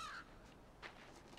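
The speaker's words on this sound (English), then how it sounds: "Now there's a crow that hates us, I'm sure." A crow caws in a video game, a few harsh calls at moderate distance over a quiet background.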